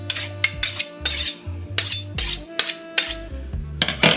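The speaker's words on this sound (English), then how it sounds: "first thing we need to do is just hone our knife" A kitchen knife is honed before cutting tri tip into steaks, producing a series of sharp metallic strokes and clinks in a quick, fairly regular rhythm, close and clear.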